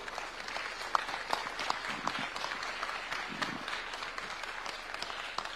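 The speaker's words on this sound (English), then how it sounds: "May we all stand with a hand clap to invite His Excellency." An audience applauds at a Jamhuri Day thematic week event at KICC in Nairobi, a steady wash of many hands clapping heard from a distance at moderate level, with no one speaking.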